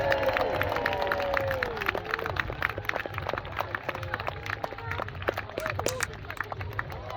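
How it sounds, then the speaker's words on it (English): A festival crowd at a Battle of Evesham reenactment cheering and clapping as costumed troops with swords charge each other, a busy open-air roar of voices with scattered claps and shouts, moderately distant. "ladies and gentlemen, as these troops charge each other, give them the most enormous cheer!"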